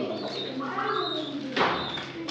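Pigeons cooing softly in an indoor home loft, a low burbling call with faint chirps from other birds, moderately near under light background noise.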